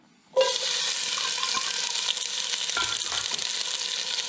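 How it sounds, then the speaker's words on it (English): Red onion dropping into a hot pot for Bulgarian bean soup, bursting into a loud, continuous close sizzle that holds steady, with a few light stirring knocks partway through. "We're going to start today's soup with red onion"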